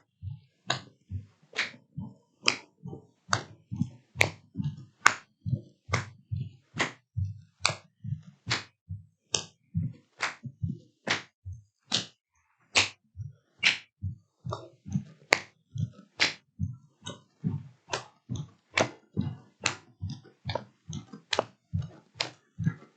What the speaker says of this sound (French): je vais applaudir en faisant des très grands mouvements